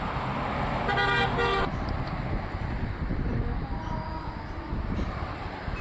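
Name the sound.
car tyres over musical rumble strips on road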